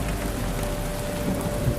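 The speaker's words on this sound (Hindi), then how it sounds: "अचानक आसमान से बिन मौसमी बारिश शुरू हुई और धीरे धीरे आग शांत हो गई।" Sudden unseasonal rain falling in a cartoon: a brief, steady wash of rain hiss with a faint low rumble underneath, no voices.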